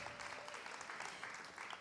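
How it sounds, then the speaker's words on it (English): Audience clapping at a Fifth Avenue Committee fundraising gala, a soft, fairly distant patter of applause that continues evenly through the short moment. "Yes, we should absolutely and clap for them."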